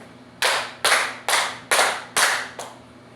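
Five sharp bursts of group clapping in a steady rhythm, each a quick crash of many hands, close and loud with no talking.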